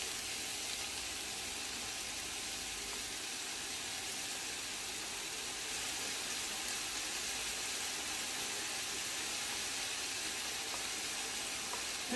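Sliced onions and garlic with seasoning sizzle steadily in a hot pan, a close, continuous hiss of frying that holds at an even level throughout with no talking.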